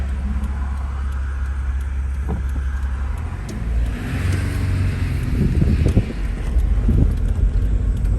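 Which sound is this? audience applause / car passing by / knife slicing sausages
car passing by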